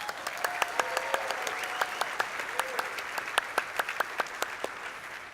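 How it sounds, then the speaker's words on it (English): Conference audience applauding integration partners at a legal technology event, a steady round of clapping with sharp individual claps standing out over a continuous crowd wash. "one big round of applause for all of our integration partners that are here today"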